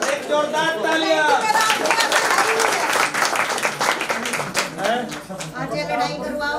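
Loud, dense audience applause fills a hall at a retirement function, steady throughout with a brief dip near the end, while voices and cheers mingle within the crowd noise.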